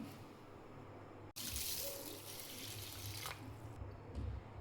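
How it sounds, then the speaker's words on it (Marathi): Basmati rice being rinsed in water, a steady close splashing and running-water wash with sloshing bursts, alone without talk. "तांदूळ धुवून घेतलाय 2-3 पाण्याने"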